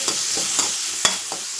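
Chopped onions sizzling in a pan for a vegetable stew, with a steady frying hiss and a few sharp clinks of a spoon stirring, close and moderately loud, with no talk.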